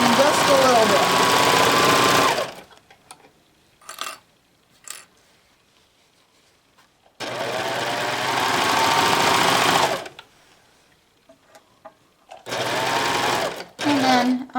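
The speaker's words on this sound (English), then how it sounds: "Your serger will work more efficiently if you allow it to trim just a little bit." A serger sewing machine trimming and stitching fabric for an infinity scarf, running in three loud whirring bursts separated by quiet pauses with light handling sounds, close up and alone.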